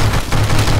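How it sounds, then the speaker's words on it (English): Hearthstone blowing up in the naval combat game From the Depths: a dense, loud burst of booming, crackling explosion noise that fills the whole short moment without letup. "Yep, that explodes."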